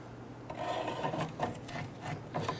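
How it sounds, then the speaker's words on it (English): A pole jack is cranked up under a 2006-2010 Honda Ridgeline during rear strut replacement, giving faint, repeated rasping and scraping strokes at close range with no talk. "I'm going to go ahead and crank up on my pole jack here."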